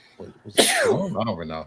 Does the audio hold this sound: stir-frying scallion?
no